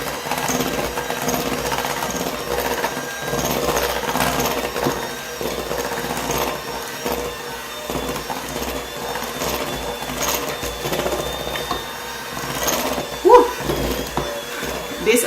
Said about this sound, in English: This hand mixer is wearing my arm out.